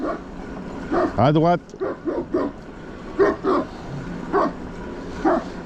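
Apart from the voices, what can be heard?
big dog barking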